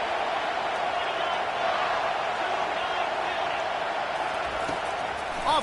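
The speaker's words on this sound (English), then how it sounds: "Listen to this crowd just shaking the girders of this place" A stadium crowd at a football game roars loudly and steadily, a dense wall of cheering that stays constant throughout and sounds both near and spread out.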